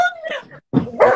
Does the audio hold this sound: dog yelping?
yes